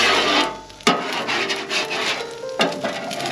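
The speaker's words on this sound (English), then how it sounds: "What I'm doing right now is I'm simply scraping as much as I can off of here." A flat spatula scrapes residue off a grill's cooking surface, harsh rasping strokes repeated close up with a couple of sharper metallic scrapes, no talking over it.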